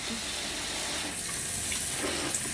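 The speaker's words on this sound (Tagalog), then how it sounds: "itong kabila, lalagyan natin ng water para hindi siya uhaw." Water pours steadily from a container into pig feed, a continuous close splashing gush with no voices.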